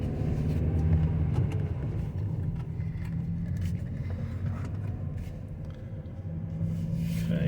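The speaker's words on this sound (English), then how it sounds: "let's just go for a little trottle around the block so we can see what it drives like" A car drives around the block, its engine rumbling steadily from inside the cabin with road noise and occasional small knocks, no talking.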